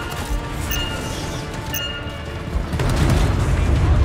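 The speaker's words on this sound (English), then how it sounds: "Stand clear for detonation." A detonation in the video game Anthem: a heavy, low boom swells in the second half and holds as a dense rumble, after a busy stretch of game sounds with faint tonal effects.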